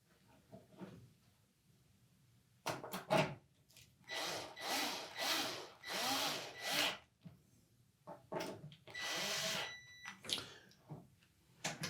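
Retaining screws on a Samsung range console are driven in and tightened by hand during a switch installation, giving a run of close, scraping and rubbing turns in several bursts separated by short pauses.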